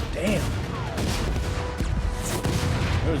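An explosion in the animated series Star Wars: Maul - Shadow Lord, heard as loud repeated blasts and crashing booms under dense action noise, with sharp impacts through the middle and end.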